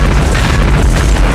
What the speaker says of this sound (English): In the end, it was Nadia who made a move, stuffing an incendiary grenade into Robert's body.